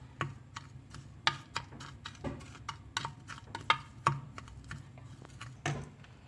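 Spoon stirring spices into mustard oil in a bowl, making a string of light, quick clicks and scrapes at an irregular rhythm, close but quiet, with no voices.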